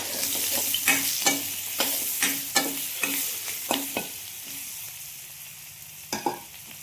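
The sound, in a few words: potatoes frying in a pan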